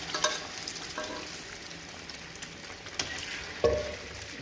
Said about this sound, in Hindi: तो अब इसको मैं इस तरीके से फ्राई कर देता हूँ।